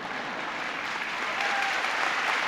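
A university audience claps steadily through the whole stretch, dense and sustained, with a slight swell toward the end and no voices over it.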